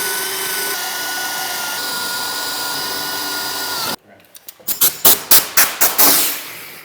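A power drill bores holes through the tunnel of a Ski-Doo Gen 4 snowmobile for a rear bumper, a steady whine for several seconds, then a silence and a run of short, loud bursts close up.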